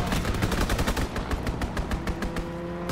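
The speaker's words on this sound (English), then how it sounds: "Strafing the target." Rapid fighter-plane strafing fire from Call of Duty: WWII, a loud, dense stream of machine-gun shots with sharp regular bursts layered over a continuous rumbling battle bed, no voices.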